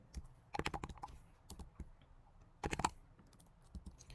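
Typing on a computer keyboard comes in quick bursts of close, crisp key clicks separated by short pauses, with no talking.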